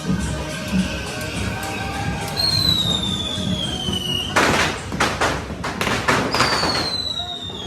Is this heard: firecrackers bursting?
yes